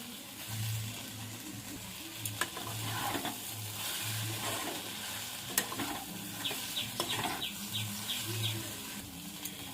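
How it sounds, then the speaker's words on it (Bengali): Soybean chunks stir-fried with spices in a pan, a steady sizzle and repeated scraping stirs throughout, with faint bird chirps in the background. "সয়াবিনের সঙ্গে মশলা ভালো করে কষিয়ে নেব।"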